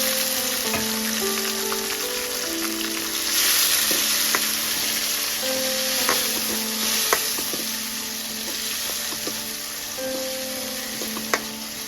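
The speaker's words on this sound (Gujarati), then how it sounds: "આપણે ટમેટા નાખી દેવું, ડુંગળી સડી ગઈ છે" Onions and tomatoes frying together in a pan for Gujarati-style patra, a steady close sizzle with faint clinks and stirring scrapes running throughout, no voices.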